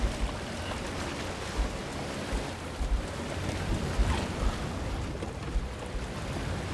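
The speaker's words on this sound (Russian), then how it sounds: "Горный ручей" Steady wash of running water from a mountain stream in the horror game Resident Evil Village, a continuous broadband rush with faint low thumps, no voices.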